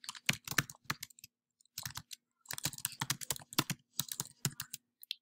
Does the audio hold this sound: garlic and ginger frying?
no